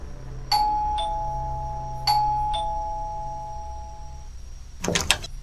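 A two-tone electronic doorbell chimes twice in succession, each ding-dong ringing out clearly with a lingering tone over a low background hum, followed by a brief rustle at the end.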